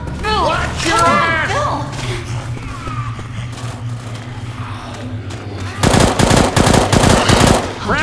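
Rapid automatic shotgun fire from the Left 4 Dead 2 game, loud bursts of blasts, with a shouted voice and game effects early on and heavy gunfire dominating the final seconds.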